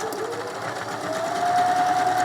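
A Janome mechanical drop-in bobbin sewing machine stitches a manual buttonhole with a fast, steady, close whirring run and an even mechanical hum.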